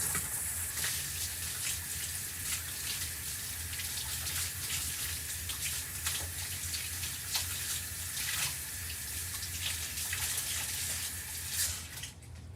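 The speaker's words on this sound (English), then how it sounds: "Let me go wash my hands and we'll let this dry for a second." Tap water runs steadily into a sink while hands are washed, a close continuous splashing rush with small irregular spatters and no talking.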